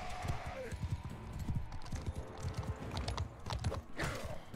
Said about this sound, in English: Two guys and a horse. Give me that horse.